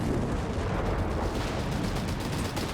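A German artillery battery fires in the wartime strategy game Company of Heroes 3, a dense, continuous rumble of booming shots and blasts rolling together without a break.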